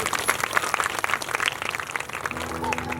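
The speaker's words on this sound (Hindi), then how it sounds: "एक बार महादेव के लिए जोरदार ताली" Crowd applause at a Ram Katha religious gathering honouring Lord Shiva: dense, sustained clapping from a large audience, loud and continuous throughout, with faint voices mixed in.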